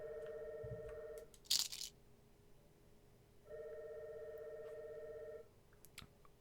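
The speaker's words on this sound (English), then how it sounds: "Oh, this phone's gonna drive me crazy." An old-style telephone bell rings in two long bursts separated by a pause, quiet and slightly distant in a still indoor room, with a brief clatter between the rings.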